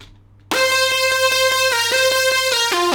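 Bright, buzzy Xfer Serum synth lead with its EQ and stereo enhancer bypassed, entering abruptly after a short silence and holding loud stepped notes in a steady melodic pattern, no talking.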